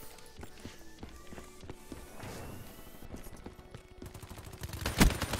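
Call of Duty Black Ops 3 gameplay fills with rapid bursts of gunfire and scattered shots, mixed with running footsteps and game effects, mostly at moderate loudness, ending in a sharp louder blast.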